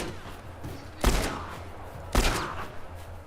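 Two heavy gunshots in the video game The Last Of Us, each a loud booming blast with a trailing echo, about a second apart.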